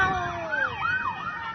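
A police patrol car siren wails close by in rising and falling sweeping tones, loud and steady, with faint road noise beneath.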